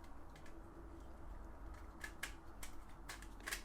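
A Chint three-phase contactor takes an auxiliary contact block fitted from the top, giving several small sharp plastic clicks and snaps, quiet and close, scattered over a faint background hum.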